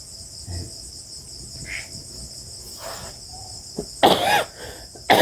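A person coughs several times, with the loudest bursts near the end, against a steady backdrop of chirping crickets at night.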